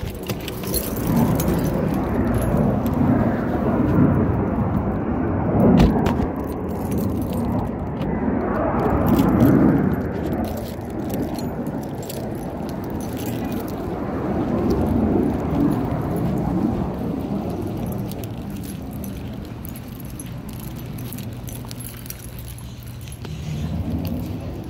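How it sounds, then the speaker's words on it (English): A set of keys jangles as they are pulled out, a loose metallic rattle that runs through a steady low rumble of car and road noise. "Let me take out my keys."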